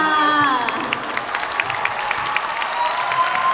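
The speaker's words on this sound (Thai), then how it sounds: "ขอเสียงปรบมืออีกครั้งหนึ่งครับ" Steady applause from a school audience at a Thai Language Day and science week performance, dense and continuous clapping mixed with some crowd noise.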